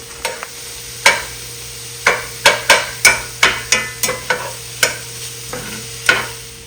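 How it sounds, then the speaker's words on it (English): Yellow and green bell peppers with riced cauliflower being sautéed in a pan, heard as a close series of sharp, evenly spaced utensil scrapes and taps against the pan over a faint steady sizzle, with no voices. "So now I'm going to add in some yellow bell pepper and green bell pepper, as well as rice cauliflower."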